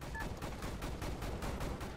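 Rapid sustained gunfire from an Osprey gunner in Call of Duty: Modern Warfare 3, a dense continuous burst of loud, pulsing shots with no pauses.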